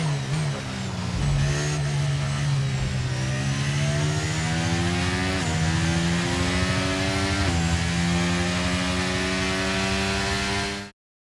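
Loud, sustained F1 racing car engine from the F1 23 video game on the cool-down lap after the race, a high droning whine that steps up through several rising gear sweeps with shifts, then cuts off abruptly at the end.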